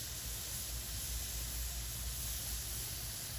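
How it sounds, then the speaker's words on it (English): Steam venting from pressure canners while refried beans are being canned, a constant broad hiss that stays steady and fairly loud from start to end with no other sounds over it. "that's what you want, that type of steam coming out"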